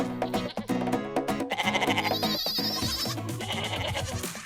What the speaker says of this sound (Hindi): यहाँ पे भी मुख्तलिफ नस्लों के और बकरे भी मौजूद हैं, भेड़ भी मौजूद हैं